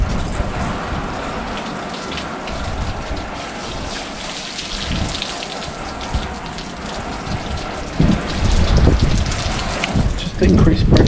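Pressure-washer water rinsing a car during detailing, a steady dense hiss of spray spattering on bodywork throughout, growing louder and harsher in bursts toward the end.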